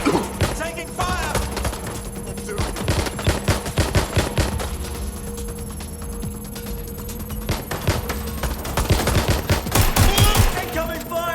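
Automatic gunfire in Watch Dogs: Legion, with dense bursts of rapid shots crackling over game music and effects, heaviest at the start and end, under a steady background hum.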